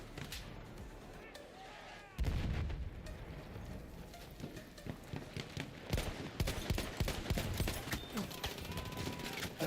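Gunfire in the shooter video game Battlefield 1, with rapid bursts and repeated shots in a loud, busy mix running under a speaking voice.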